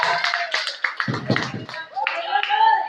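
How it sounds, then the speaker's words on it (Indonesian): Classroom applause for a student group, a short patter of hand claps mixed with voices and chatter throughout. "kita berikan aplaus dulu kepada kelompok dua"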